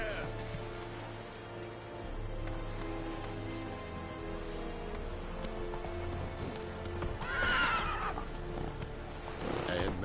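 Roach, Geralt's horse in The Witcher 3, clip-clops steadily at a gallop over a rain-like hiss and neighs loudly near the end, with a voice speaking over the hoofbeats.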